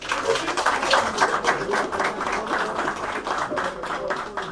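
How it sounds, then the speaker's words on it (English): An audience at an under-15 football league prize-giving claps for an award winner, a steady, fairly close round of applause lasting several seconds. "So let's give them a round of applause."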